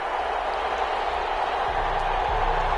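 Stadium crowd noise from an EA Sports NFL video game before a Green Bay Packers versus Detroit Lions matchup, a steady, loud wash of cheering and applause with low rumble throughout, no talk.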